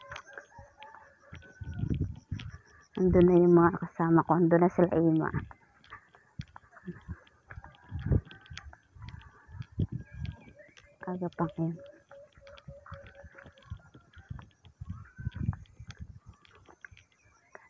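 Birds call around a small shallow stream used for bathing and doing laundry, with two loud, crow-like bursts standing out among scattered calls while people talk nearby.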